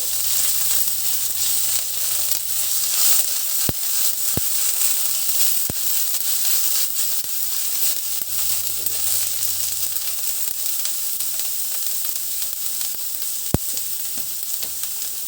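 Bamboo shoots frying in a pan, a steady loud sizzle throughout with a few sharp clicks of a spatula stirring against the pan.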